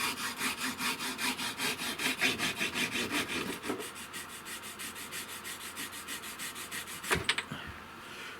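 Hand saw cutting through wood at a desk, a steady series of close, rhythmic rasping strokes for the first few seconds, then slower, quieter strokes, ending with a couple of sharp knocks.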